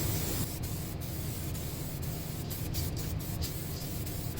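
Clear coat is sprayed onto a Pontiac Fiero car part during a fuel system rebuild, a continuous close hiss from an aerosol or spray gun broken by brief stops in the spray.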